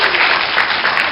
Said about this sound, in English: Round of applause. Let's hear it.